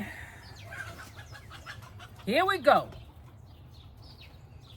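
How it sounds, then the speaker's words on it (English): Roosters scuffling among Silkie chickens, with a short burst of loud squawking calls in the middle over a steady low background hum, and a brief spoken remark nearby. "Oh, roosters fighting."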